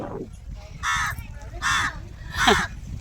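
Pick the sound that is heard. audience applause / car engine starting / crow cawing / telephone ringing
crow cawing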